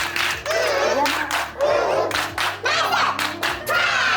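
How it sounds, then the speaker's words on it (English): Clapping from a small group on a livestream, a run of brisk, sharp claps in bursts lasting a few seconds, with a voice talking over it. "Now give him a love clap."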